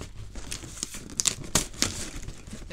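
Scissors cut open a cardboard box, giving scattered crackling snips and crinkling bursts of cardboard and packaging at close range, irregular and fairly quiet, without speech.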